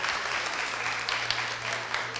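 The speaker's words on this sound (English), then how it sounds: "Please give them a round of applause" An audience at a panel discussion on advocacy journalism claps for the panelists in a short, dense burst of applause, even and fairly loud throughout, with a low steady hum beneath.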